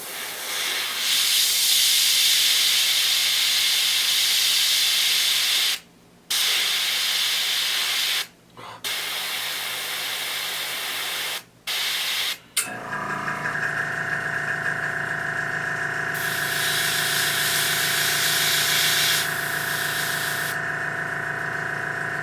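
Airbrush spraying paint onto Wraithblade miniatures, a steady close hiss of air and paint that cuts out in several brief pauses and shifts to a lower, changed spray tone halfway through, with no talk.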